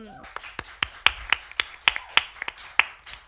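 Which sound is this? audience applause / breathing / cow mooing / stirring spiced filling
audience applause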